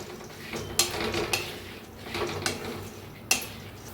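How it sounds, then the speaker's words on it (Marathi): Matki (moth beans) dry roasting in a kadhai, heard as a dry rustle with several sharp clicks and taps of a spoon against the pan at irregular intervals. "पहिला असंच भाजून घेऊया मटकी."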